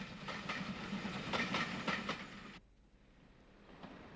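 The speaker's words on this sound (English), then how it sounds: "The Enterprise Express, the 10:30 a.m. from Belfast to Dublin and Cork, is formed by the CIE set of coaches, hauled by a GNR VS Class 440." The Enterprise Express from Belfast to Dublin and Cork, CIE coaches hauled by a GNR VS Class 440 locomotive, passes with rhythmic wheel clatter and hiss before cutting abruptly to a quiet background.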